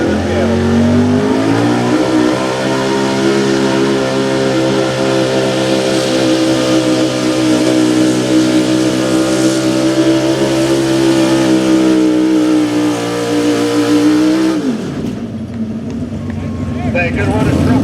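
A pulling truck in the Run What You Brought class at a truck pulling event roars loudly and steadily near at hand for about fifteen seconds, its pitch climbing slightly before the engine cuts off abruptly, with crowd noise underneath.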